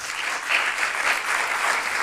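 Clapping from an improv festival audience in Paris scoring a scene, a steady, moderately loud wave of applause with slight swells, no voices over it.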